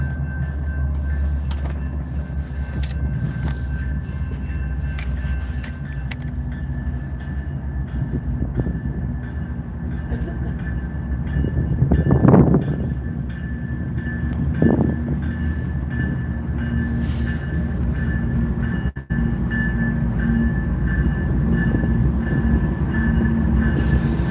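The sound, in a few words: passing train with squealing wheels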